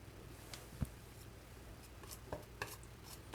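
A palette knife dabs and scrapes paint onto canvas to form tree branches, producing faint, sparse taps and short scratchy strokes against quiet background.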